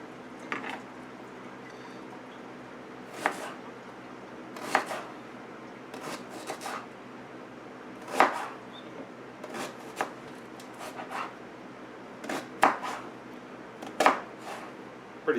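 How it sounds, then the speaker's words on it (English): A knife slices bell peppers on a cutting board, sharp irregular chopping knocks spaced a second or two apart, close and crisp over quiet kitchen room tone. "Slice it up pretty tight, something like that."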